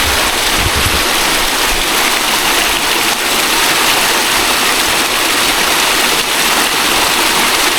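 A river flows beside village houses set in the forest, a steady broadband rush of water close by with no voices, constant and even throughout.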